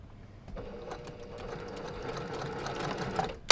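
A sewing machine stitches a French seam through fabric while a boxed corner is being made. It starts after a quiet half second and keeps up a steady, close whirring hum, ending with a sharp click.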